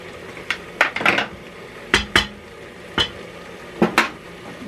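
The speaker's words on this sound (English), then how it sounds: "I'll break this meat up a little bit more." Hamburger meat broken up in a Presto electric kettle with a utensil, a series of sharp metallic clanks and scrapes in uneven bursts, close and loud, with no talking.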